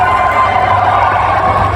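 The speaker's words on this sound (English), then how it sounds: "The crowd is on its feet." A packed arena crowd at the Asian Weightlifting Championships roars steadily during the men's +105 kg lifts, a loud, continuous wash of cheering and shouting voices with no break.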